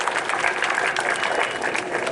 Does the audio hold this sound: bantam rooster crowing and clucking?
no